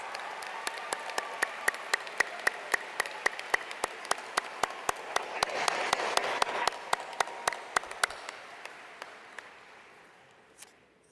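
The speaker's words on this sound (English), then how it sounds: "let's give them a round of applause." An audience at a law school commencement ceremony applauds steadily, with dense clapping and a few sharp individual claps standing out, swelling slightly midway before fading out over about ten seconds.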